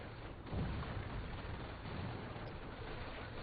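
Grenade blasts in the World War II strategy game Company of Heroes, a dense, continuous rumble of low booms and bursts stretched across the whole stretch, moderately loud with no clear gaps and no talk.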